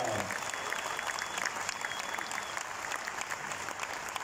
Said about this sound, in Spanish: un aplauso para la gente de Jujuy